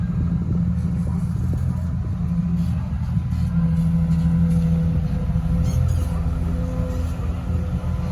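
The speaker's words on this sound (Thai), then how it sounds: "ให้รถไถดันหน่อย" A tractor pushing earth to build a new track at a pond site, heard as a steady, close diesel engine rumble with a low droning hum that continues throughout.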